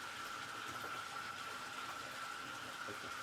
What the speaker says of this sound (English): let's get some more water in this motherfucker